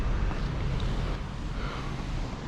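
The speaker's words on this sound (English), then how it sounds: "it is extremely windy today, and I'm only filming with my GoPro" Strong gusts batter a GoPro microphone atop an old Roman city wall, producing a loud, continuous rumbling roar with no other clear sounds.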